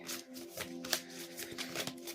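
A tarot card deck is shuffled up close, a quiet continuous riffling and sliding of cards with soft flicks, no talking over it.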